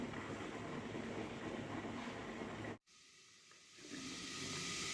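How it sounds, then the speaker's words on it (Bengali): A pot of rice boils at home in a quiet kitchen, giving a faint, even steam hiss. The hiss cuts out briefly and then returns softer, with no talking. "ভাত ফুটছে।"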